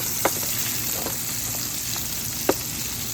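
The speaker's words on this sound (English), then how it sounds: "I'm just gonna fry that up with the bacon and stuff" A steady, even sizzle of bacon and onions frying in a pan, with a couple of faint clicks and scrapes along the way.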